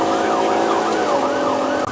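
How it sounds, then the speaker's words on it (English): A police car siren wails steadily during a high-speed pursuit, its sweeping tone repeating without a break over road noise, with no voices heard. "I still hear lights and sirens."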